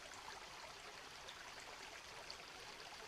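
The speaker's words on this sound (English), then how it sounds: "This is a good flowing stream." A flowing stream on a hike in the Mica DNR area rushes with a steady, close hiss of moving water, quiet and unbroken with no talking.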